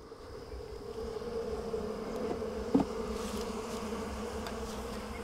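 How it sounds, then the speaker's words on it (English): A steady hum of many bees buzzing close by as they are moved from a nuc into a ten-frame hive, continuous and droning, with a brief louder burst midway. "Now we'll see about getting some bees out of this NUC"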